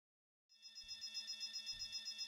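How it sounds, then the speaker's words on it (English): A video game alarm warning that units are overheating comes in after a brief silence as a steady, loud, high-pitched pulsing tone, with low thuds beneath it. "What? An alarm?"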